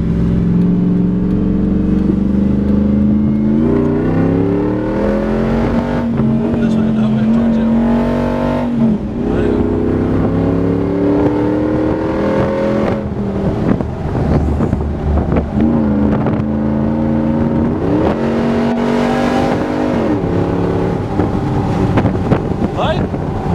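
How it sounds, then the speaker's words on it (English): A JK 6x6 Jeep with a manual gearbox drives along; the engine drones steadily and its pitch climbs and drops repeatedly as gears change, with wind buffeting the microphone throughout. "Manual shift here, of course. Just like regular Jeep, but you go here first gear, second, third."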